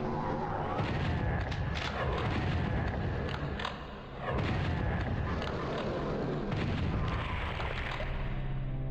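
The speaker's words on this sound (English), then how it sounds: "Let's just let that rocket detonate" In PSX Doom, a rocket detonates amid a string of heavy booming blasts and rumbling explosions that repeat over several seconds, with a brief lull midway, loud and echoing, no talking.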